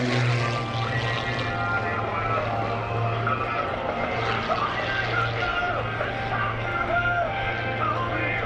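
An aerobatic propeller airplane's engine drones steadily nearby during a stall-turn maneuver at an airshow, its pitch wavering slightly as it flies, with no talking.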